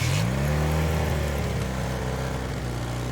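Vintage motorcycle engine, a Honda or Suzuki, catches after a kick start and revs up, a loud close rising growl that settles into a steady idle hum.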